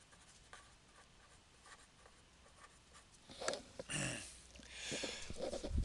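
Faint scratchy strokes of writing on a board or tablet during a probability lesson, quiet at first and then denser bursts of marker or stylus movement, with no speech.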